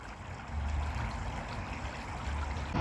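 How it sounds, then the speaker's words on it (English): Monk's Brook flows through a tunnel at the edge of a country park in Southampton, a steady, moderately faint rush of water that continues throughout with no voices. "In fact, here it is, the Monk's Brook, just as I'm leaving the country park."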